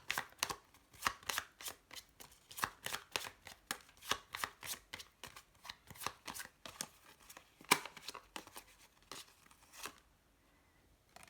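Tarot cards being shuffled by hand, a quiet, close run of crisp riffling bursts in a steady rhythm that stops near the end, with no talking.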